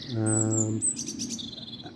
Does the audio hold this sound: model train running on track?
no